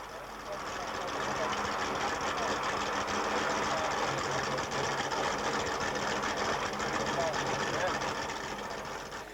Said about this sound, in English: Lamborghini warming up